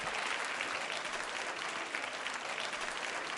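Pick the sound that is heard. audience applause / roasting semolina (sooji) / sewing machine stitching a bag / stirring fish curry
audience applause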